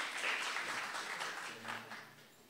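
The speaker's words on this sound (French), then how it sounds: "on peut les applaudir" An audience at a French-language contest for learners in Iraq applauds new participants with a short, dense burst of clapping that fades after a couple of seconds.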